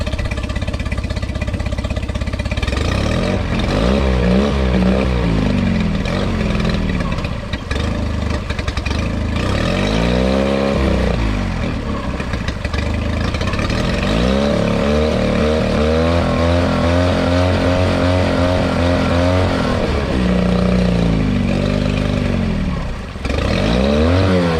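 A Mercury 9.8 four-stroke outboard motor runs loud and close after a carburetor replacement. It holds a steady idle while the revs swell and drop several times, with no voices.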